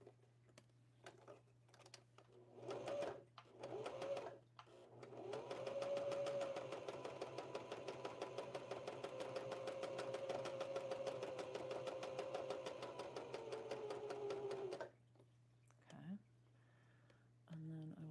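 A sewing machine runs a zigzag stitch on a doll project in one long, steady stretch of rapid rhythmic clatter, with brief starts before it and a low hum throughout.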